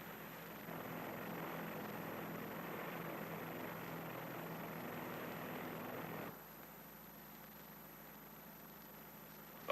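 Engine drone of a P-2V aircraft flying over a nuclear test area, a steady loud hum that holds for about six seconds, then drops to a quieter, thinner drone.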